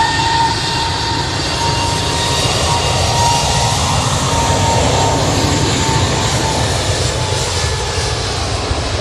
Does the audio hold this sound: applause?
no